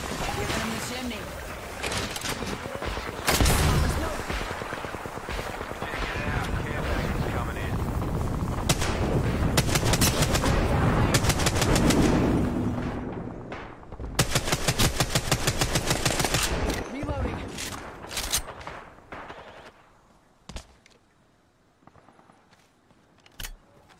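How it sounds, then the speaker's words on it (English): Gunfire in a video game shooter: long stretches of rapid automatic fire and scattered single shots, some distant, with someone talking over much of the action. "That guy's still trying to shoot from way over there."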